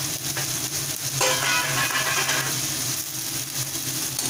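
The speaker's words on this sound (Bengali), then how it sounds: "এবার গ্যাসটাকে একটু ফুল ফ্লেম দিয়ে ভালোভাবে ফ্রাই করে নেব" Soya chunk keema sizzling in a pan on a gas stove at full flame, a continuous close frying hiss with brief surges of spattering and stirring.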